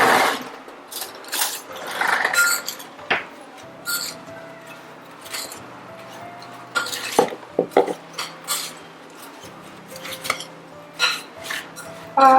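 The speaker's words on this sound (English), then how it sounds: "we will stir this up and combine those ingredients." Vegan apple pie filling ingredients, including flour, are stirred in a bowl, with irregular clinks, scrapes and taps of a utensil against the bowl close by.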